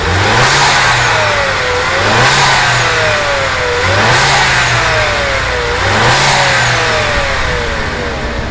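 Mercedes-Benz E200 Facelift engine heard up close from the engine bay, revving in four repeated blips with rising and falling pitch, loud and steady between each rev, with no talking.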